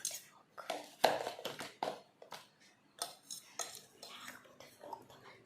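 A fork clinks and scrapes against a bowl while mixing, a quick irregular series of close metallic taps and scrapes with soft speech between strokes.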